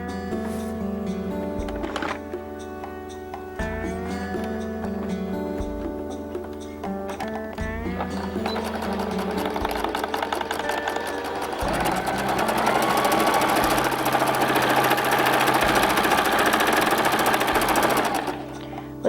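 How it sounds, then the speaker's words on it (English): A sewing machine stitches a half-inch seam along the side and bottom of a towel, its needle thumping in steady rhythm, pausing briefly and then running faster and louder in a long continuous burst. "we're simply going to stitch a seam, a half-inch seam down the side and along the bottom."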